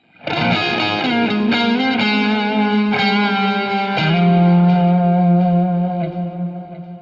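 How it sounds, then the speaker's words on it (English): Distorted electric guitar with echo and effects plays a bluesy lick for a song, with bending, sliding notes that resolve into a long sustained tone, loud and close with no voices. "It's a super bluesy sounding lick."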